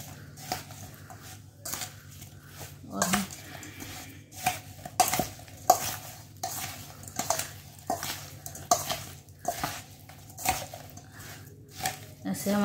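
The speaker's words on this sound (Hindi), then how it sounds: "अब ऐसे हम अचार में ही सारे मसालों को मिक्स कर देंगे अच्छी तरह से।" Spices are worked by hand into a batch of mango pickle, with repeated soft scraping and clinking of a spoon against the vessel in an irregular rhythm, close up, while a low steady hum runs underneath.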